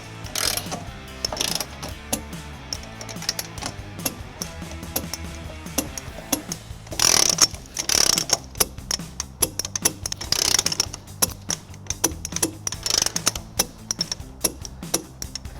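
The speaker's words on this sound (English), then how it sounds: "We're going to start with these three nuts using a 14mm socket." A ratchet wrench with a 14mm socket tightens trailer hitch nuts on a 2023 Toyota Sienna, giving bursts of rapid clicking close by, separated by short pauses, with no talk.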